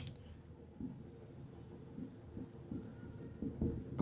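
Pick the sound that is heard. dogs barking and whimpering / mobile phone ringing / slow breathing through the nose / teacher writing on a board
teacher writing on a board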